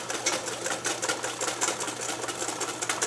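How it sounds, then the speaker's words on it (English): A whisk beats egg yolks steadily in a bowl while hollandaise sauce is made, giving a fast, continuous, even clicking and scraping that runs without a break. "So we want to consistently whisk our egg yolks."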